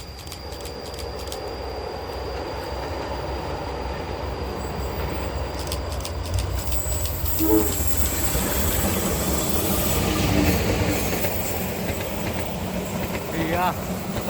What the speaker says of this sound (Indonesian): Ada kereta lagi dari sana.